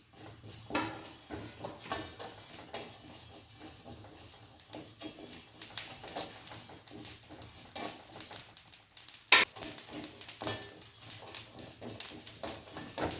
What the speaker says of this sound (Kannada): ಅದನ್ನು ನೀಟಾಗೆ ಬ್ರೌನಿಷ್ ಆಗೋವರೆಗೂ ಹುರ್ಕೋಬೇಕು. ಇದ್ರ ಜೊತೆಗೆ ಜೀರಿಗೆನೂ ಹಂಗೆ ಆ್ಯಡ್ ಮಾಡ್ಕೊಳ್ತಾ ಇದ್ದೀವಿ.